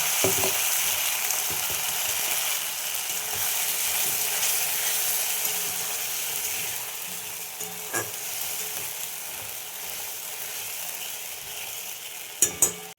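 A spiced masala of tomato, ginger, green chili and garam masala fries in a pan with a steady, broadband sizzle throughout, punctuated near the end by a few sharp metallic scrapes or knocks of a utensil.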